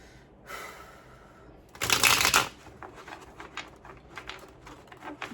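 Tarot cards being shuffled close up, a short burst of riffling followed by softer scattered card flicks and taps, quiet and alone.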